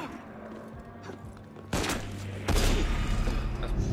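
Gunfire in the video game Assassin's Creed Unity: sharp loud shots burst in, layered over a busy game-scene background of rumble and clatter, growing denser and heavier toward the end.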